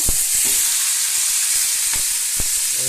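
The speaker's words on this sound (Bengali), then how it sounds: "এবার মাংসটা ঢেলে দিয়ে ভালো করে কষাতে হবে মাংসটাকে।" Meat poured into a frying pan with tomatoes sizzles steadily and loudly, with a few soft knocks from stirring.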